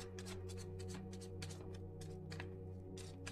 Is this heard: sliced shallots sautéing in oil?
no